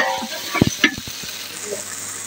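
Onions fry in a pan with a soft, steady sizzle while a spoon stirs and scrapes them in a few close, sharp knocks.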